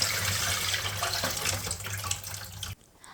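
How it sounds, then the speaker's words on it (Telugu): Soaked rice being rinsed in water in a kitchen sink, a steady rushing, splashing wash under a running tap that stops abruptly near the end, close and fairly loud. "ఈ బియ్యాన్ని 5-6 సార్లు శుభ్రంగా కడుక్కోవాలి."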